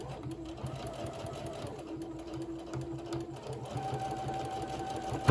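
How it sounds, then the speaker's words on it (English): Sewing machine stitching a fabric bowl koozie for a craft fair, a steady close mechanical whirr with rhythmic needle ticking running continuously, a faint voice underneath. "keep sewing the rest of the way to the corner"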